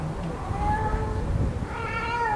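A cat meows several times in quick succession, close and clear, with drawn-out rising and falling cries over a quiet background.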